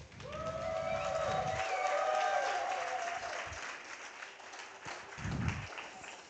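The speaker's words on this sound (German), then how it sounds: "euer Applaus für Gerd, Prompt-Engineer, den Schwarz-Weißen rechts" A crowd applauds at a live prompt battle event. The clapping is dense and sustained for several seconds, moderately near, then fades, with music or tonal sounds running alongside and a brief burst of speech near the end.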